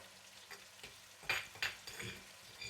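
Curry masala paste for a desi chicken curry fries in a pot, a soft low sizzle broken by a few sharp spattering bursts and light scraping stirs.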